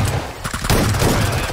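Sniper rifle fire in the mobile battle royale game BGMI, a loud sharp crack followed by ringing gunfire noise that fills the short moment with no talk.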